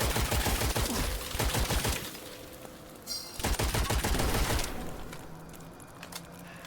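Shotgun-like weapons fire rapidly in the video game Witchfire, dense blasts in quick bursts with a brief pause, loud and close, ringing over a busy game soundscape.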